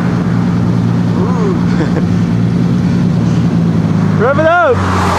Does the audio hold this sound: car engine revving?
yes